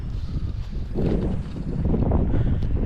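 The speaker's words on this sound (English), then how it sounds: "You can probably also hear the wind noise. It is really, really windy" Strong wind buffeting the microphone at an outdoor shooting range, a continuous low roaring rumble that grows louder partway through.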